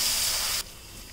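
Chopped onions sizzle in a hot cooking pan, a loud, bright hiss that cuts off abruptly partway through and leaves only a faint background hush.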